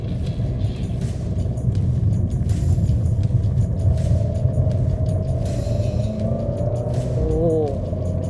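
Abarth car accelerating after a paddle-shift downshift, heard from inside as a steady, loud engine drone with road rumble that holds throughout, rising slightly in pitch toward the end.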